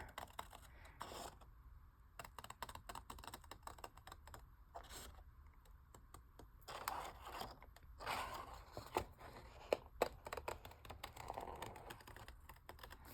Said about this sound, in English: All right, let's cut this curve around here now.